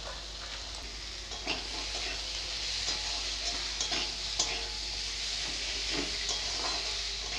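Chopped tomatoes and peas fry in a pan for fish-head muri ghonto, with a constant loud hissing sizzle and intermittent spatula scrapes and taps.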